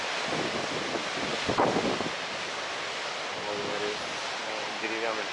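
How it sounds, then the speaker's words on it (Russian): Baltic Sea waves crash against a seaside promenade in strong wind, a broad roaring wash with gusts buffeting the microphone and a heavier surge early on, while a voice speaks faintly underneath. "Сейчас смотрите, бьются волны."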